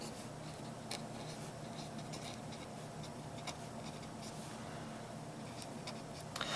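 Pen or pencil writing on paper, a faint continuous scratching with small taps, heard close and alone without talk.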